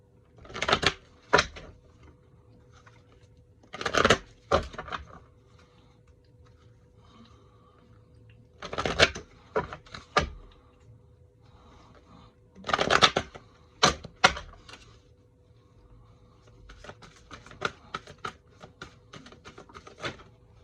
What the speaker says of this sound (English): Let's pull some chakra cards.